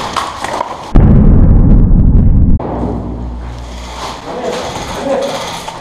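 A grenade goes off in a video game: a sudden loud, heavy low-frequency blast lasting over a second, with shouting voices before and after it.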